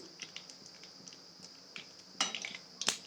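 A spoon stirring bay leaf and mustard seeds in a pot for mango kadhi made without gram flour, a faint series of light metallic taps and scrapes ending with a couple of sharper clinks.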